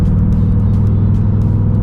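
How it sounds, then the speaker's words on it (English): A 2024 Ford Mustang GT's naturally aspirated V8 hums at a steady, loud idle-to-low rev from inside the cabin, a constant deep drone with no clear blip of a rev-matched downshift. "Oh, it sounds so nice. I absolutely love this engine."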